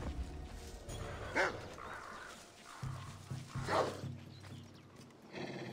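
Dogs bark in the Assassin's Creed Odyssey video game, with two separate barks set apart by a few seconds and heard at mid-distance. Soft game ambience and hoof-like sounds continue underneath.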